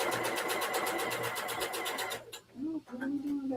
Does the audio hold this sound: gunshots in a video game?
no